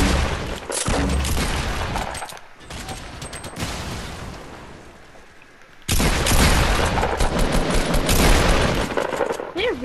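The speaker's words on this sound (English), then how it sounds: "Really, just shoot a grenade launcher up here?" Gunfire from a grenade launcher in a video game crackles in loud, dense bursts, fading briefly midway before surging back strongly, with players talking over the action.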